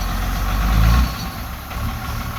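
A large crane truck engine rumbles close by, with a heavy low-frequency drone that swells for a moment before settling back into a steady idle.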